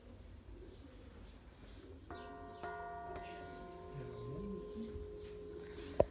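A church bell in a belfry, struck gently with a hammer, gives two soft, ringing strikes that hum on as they fade, with pigeons cooing faintly nearby.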